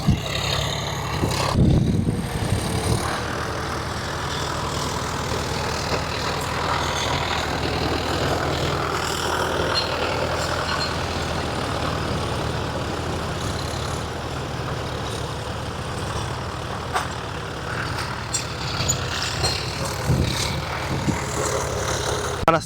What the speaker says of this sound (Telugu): మన స్వరాజ్ బండి చూడండి,